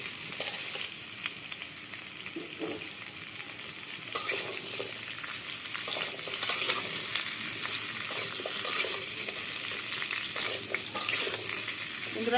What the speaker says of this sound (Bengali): এবার সব রকমের সবজি আমি বেগুন, কাঁকরোল, নোটে ডাঁটা, আলু, মানে যা কিছু কুটেছি সব আমি এই তেলে ভেজে নেব।